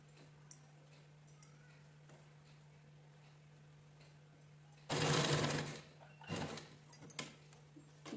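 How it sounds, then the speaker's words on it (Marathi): A sewing machine stitches fabric in a quiet room, one loud, fast mechanical run of a second or so, then shorter bursts and clicks over a steady low hum. "या साईडने पण स्टिच करून घ्यायची"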